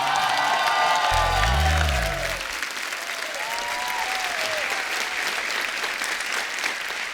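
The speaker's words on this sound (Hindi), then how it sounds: "जोरदार तालियों से स्वागत होना चाहिए।" A studio audience at a comedy talk show bursts into loud, sustained applause with cheering and whoops, a broad crowd roar that dips slightly after the first couple of seconds and continues steadily alongside musical tones.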